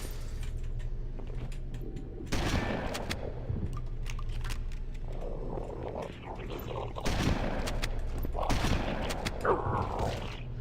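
Bursts of gunfire from a weapon in Halo: Combat Evolved crackle over a steady low game hum, several sharp volleys spaced a few seconds apart at moderate loudness.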